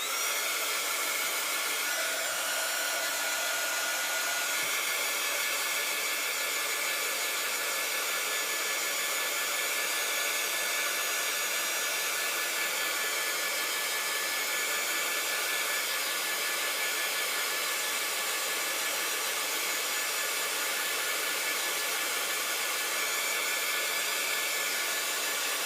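A hair dryer blows steadily and loudly for the whole stretch, drying a handmade paper craft tag, an even broadband whoosh with no talk over it.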